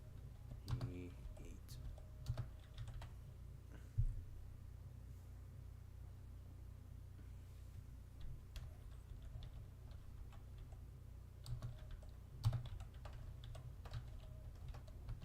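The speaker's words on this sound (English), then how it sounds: "I'm just typing out everybody else's initiative." Quiet, irregular clicking of a computer keyboard being typed on, with bursts of keystrokes and a few louder taps over a low steady hum.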